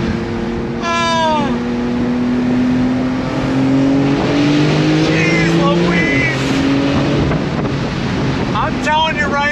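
A Porsche 911 Turbo launches hard using launch control, its engine note sweeping upward through rapid gear changes, loud and close, with wind buffeting and excited voices over the acceleration.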